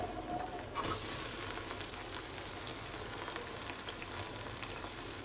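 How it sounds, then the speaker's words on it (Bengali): Red lentils dropped into a pan of frying garlic, onion and chili, bringing a loud burst of sizzling that settles into steady close crackling frying for several seconds. "আমি মুসুরির ডাল দিচ্ছি"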